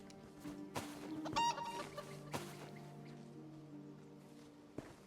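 Chicken in The Elder Scrolls Online clucks a few times amid game ambience, a short burst of bright clucks near the start over faint background tones and clicks.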